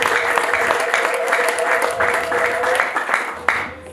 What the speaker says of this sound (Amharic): እስቲ አጨብጭቡ ለጌታ ክብር